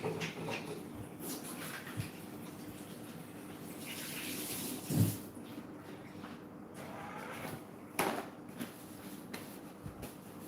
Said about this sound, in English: So I'll just give my hand a quick